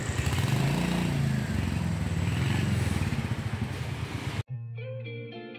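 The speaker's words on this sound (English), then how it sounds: "Just hear the punching exhaust sound of Hunter." A Royal Enfield Hunter 350 motorcycle with a 349 cc air-cooled BS6 single-cylinder engine rumbles loudly and steadily at close range for about four seconds, then cuts abruptly to a short burst of music.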